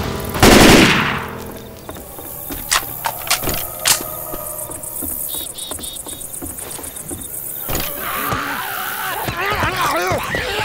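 Sustained automatic gunfire from Left 4 Dead 2 during the Dark Carnival barns finale, rapid bursts and single shots crackling loudly and continuously, mixed with game effects and chaotic noise.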